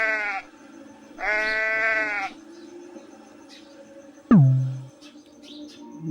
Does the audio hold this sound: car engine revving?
no